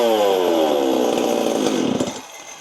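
A Stihl 026/MS260 chainsaw engine roars close and loud at high revs, then its pitch winds down quickly toward idle near the end.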